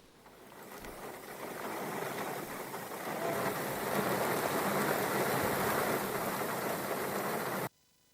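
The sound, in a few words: rain falling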